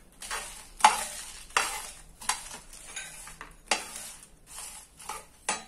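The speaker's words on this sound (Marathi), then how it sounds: "अगदी मंद मंद हे भाजायचं" Coconut and spices dry roasting slowly over low heat in a pan for sambar masala, with a spatula scraping and stirring in repeated strokes, close and moderately loud with no talk.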